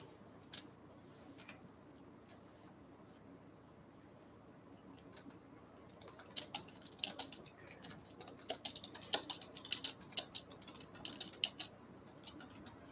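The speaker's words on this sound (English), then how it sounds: "Guess I'll type it out too." Light clicking of typing on a computer keyboard, faint and intermittent at first, then a quicker, denser run of keystrokes close by in an otherwise quiet room.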